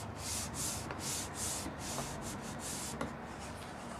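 Fingertips rub a decal scale firmly onto a bicycle fitting inseam device, giving a quiet, steady series of dry, papery rubbing strokes in a regular back-and-forth rhythm with no talking.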